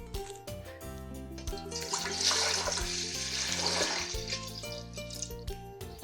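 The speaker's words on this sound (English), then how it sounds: "we're just going to pour the water into the pan" Water poured into a cooking pan for pasta, a soft splashing gush swelling in the middle and tapering off, quiet and heard over gentle background music.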